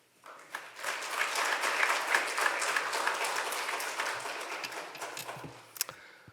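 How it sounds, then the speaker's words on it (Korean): A church congregation claps to welcome a pastor to the front at an early-morning autumn revival service, sustained dense applause filling the room at steady loudness before tapering off at the end. "박성희 목사님 나오실 때 우리 환영하는 마음으로 박수로 환영해 주시면"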